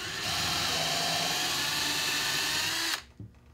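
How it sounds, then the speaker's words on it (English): Power drill pre-drilling a hole into a wooden post for a bat house pole mount bracket, a steady close high whine for about three seconds that stops abruptly, followed by faint handling sounds. "Now we want to pre-drill"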